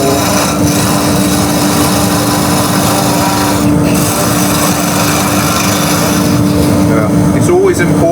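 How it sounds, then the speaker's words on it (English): Parting tool cutting into turned wood on a wood lathe: a steady, loud, continuous whirring scrape with a constant motor hum running through, alone and close. "I'm just going to take that parting tool,"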